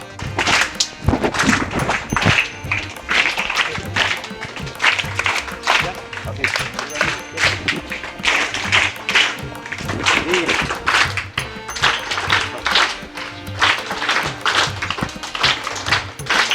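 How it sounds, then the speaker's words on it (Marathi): Sustained clapping from a crowd welcoming a guest rolls on without pause, dense and fairly close, with occasional sharper taps and knocks mixed in. "तुम्ही त्यांचं स्वागत करेपर्यंत टाळ्या मात्र बंद करायच्या नाहीत"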